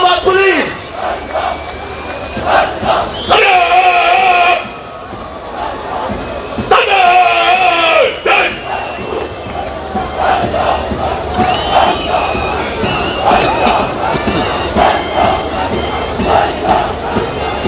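A large crowd at the Islamabad Police Independence Day parade roars and shouts in loud, sustained cheers for the SWAT unit, with rising bursts of collective whooping.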